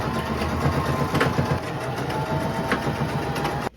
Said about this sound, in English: I'm going to just do a straight stitch that lines up with this seam here.